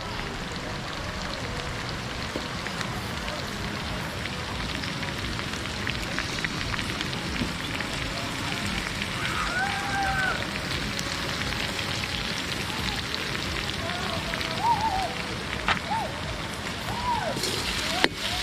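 Curry masala sizzling and frying in a pan as a little water goes in, a steady dense crackle filling the whole stretch with faint talk underneath.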